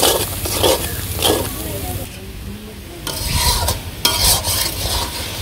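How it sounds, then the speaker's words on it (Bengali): Spice paste with salt, turmeric and dried chilli stirred and fried in a pan for a village-style young jackfruit curry, with bursts of scraping and soft sizzle, broken by quieter pauses and some voice in the background. "মশলাটা আমি একটু ভালো করে কষিয়ে নেবো"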